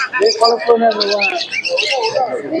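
Pigeons and other birds call and chirp amid busy chatter at the Santipur pigeon market, with voices talking close by throughout.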